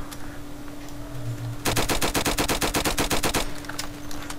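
Rapid automatic gunfire in the Roblox game Flag Wars, a dense burst of about twenty evenly spaced shots lasting nearly two seconds, loud and close over a low background hum.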